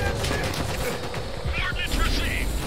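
Rapid bursts of machine gun fire come from an MG nest in the World War II shooter Call of Duty: World at War, crackling in dense fusillades with mechanical clatter, while shouted voices are mixed in beneath the shooting.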